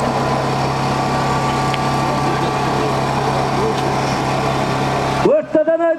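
A tractor engine runs at a kopkari horseback game event, a steady droning rumble that fills the scene, then cuts off abruptly near the end as a shouting voice breaks in.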